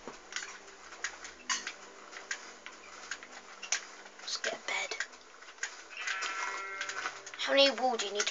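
Sheep bleat in a video game, with short wavering calls toward the end over a steady ticking game sound, while players talk throughout.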